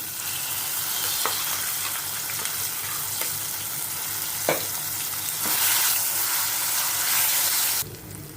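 Amaranth chutney paste with tamarind stirred in a pan of hot oil after curry leaves, a steady close sizzle with scraping spoon strokes scattered through, no talking.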